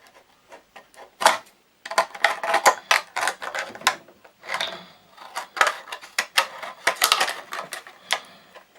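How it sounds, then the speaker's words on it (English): A plastic bottle is cut apart with scissors or a blade: close, irregular crunching snips and crackles in uneven bursts with short gaps, fairly loud and with no talking. "cut the rest of the bottle"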